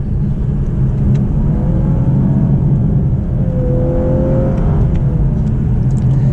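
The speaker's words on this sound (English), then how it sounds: "We got some good acceleration out of the turn." A rear-drive Lexus LC 500h hybrid accelerates out of an off-camber right turn, its engine droning steadily and loudly with a rising note midway, wrapped in continuous road and wind noise.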